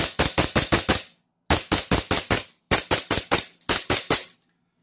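A JWC Babayaga gun test-firing in four sharp rapid bursts of about five loud cracking shots each, separated by short silences, close and alone.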